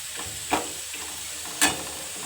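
Potatoes frying in a pan at home, a steady soft sizzle with two brief louder bursts of crackle or stirring, no voices.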